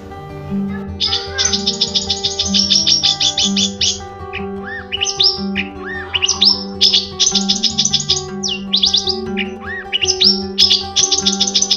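A long-tailed shrike gives bright, quick chirping phrases in repeated bursts throughout, fairly close and clear over a steady tonal hum in the background.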